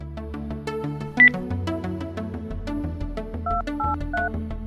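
A phone ringtone in a Haryanvi village drama scene: short electronic beeping tones in a repeating pattern, heard over steady background music, with no talking.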